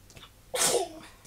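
A young boy sneezes once, a short sharp burst close to the microphone in an otherwise quiet room.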